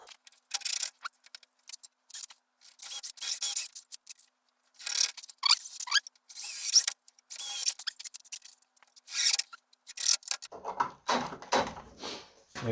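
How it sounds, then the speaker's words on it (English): A screw driven into a wooden cap on a table saw fence gives short bursts of gritty grinding and squeaking, separated by brief pauses, close by and fairly loud, with a deeper rumble near the end. "I'm going to put the first screw in just loosely to hold it in place while I put the rest in."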